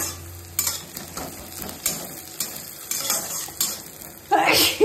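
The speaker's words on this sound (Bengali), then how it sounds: "এর মধ্যে আমি মশলা কিছু দেবো না, পেঁয়াজটা ভাজা ভাজা হয়ে যাবে।" Onions frying in a pan with no spices, a steady sizzle broken by repeated scraping stirs and utensil knocks against the pan, close up, with a louder clattering burst at the end.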